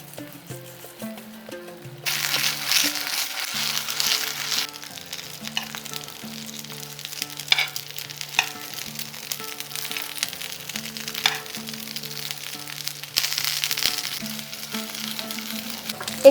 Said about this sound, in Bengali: একটু এইভাবে নাড়াচাড়া করে দিলে চারদিকটা সমানভাবে ভাজা হয়।